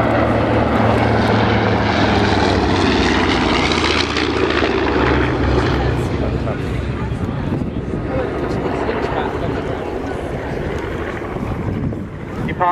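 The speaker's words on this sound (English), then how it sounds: "The Boeing B-17. First flew in 1935." A Boeing B-17 bomber flies past at an airshow, its propeller engines giving a loud, rough drone with wind buffeting the microphone, strongest early and slowly fading; a voice talks over the engine noise.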